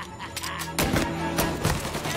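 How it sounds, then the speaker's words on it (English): Gunshots from a service revolver in the Mafia: Definitive Edition video game: two or three loud, spaced reports ring out over a busy, noisy game soundscape. "Now I have this lousy service revolver."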